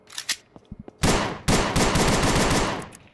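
Cortex pistol from the video game ANEURISM IV firing rapid, loud shots in two sustained bursts, after a few quieter clicks and handling sounds at the start.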